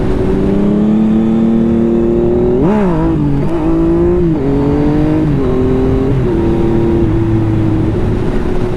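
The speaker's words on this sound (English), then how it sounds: "the first wheelie on the MT09, the first clutch up" A Yamaha MT-09 motorcycle engine revs hard as the clutch comes up for a wheelie, giving a loud, close, rising howl that dips and climbs again several times over steady wind roar.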